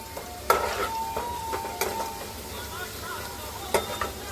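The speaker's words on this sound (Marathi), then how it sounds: "लसूण चांगली परतून घेतल्यावर चांगली लाल अशी होऊन द्यायची" Garlic sautéing in a pan for misal, a steady close sizzle broken by several sharp scrapes and knocks of a stirring spoon against the metal, with faint background noise and no clear talk.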